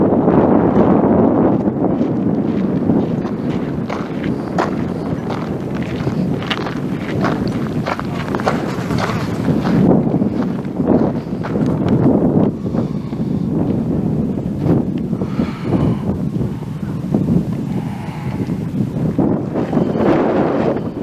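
Strong wind blows steadily and loudly on an outdoor stretch of the Silk Road near Yangguan, buffeting the microphone in a dense, continuous roar with faint background speech.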